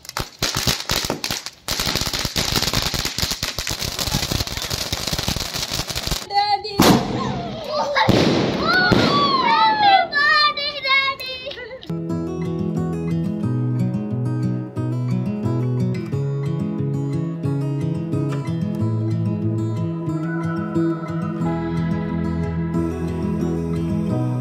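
During a Saraswati Puja celebration in Kolkata, firecrackers go off in a dense, loud burst of rapid crackling and bangs, followed by whistling rockets before music takes over.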